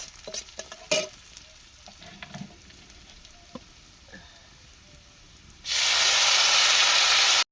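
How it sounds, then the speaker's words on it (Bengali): Mung dal dry-frying in a pan gives a few soft stirring scrapes and ticks for most of the stretch, then a sudden loud, steady hiss takes over near the end. No talking. "ডালটা প্রথম ভেজে নিল মা আজ মুগের ডাল রান্না হচ্ছে"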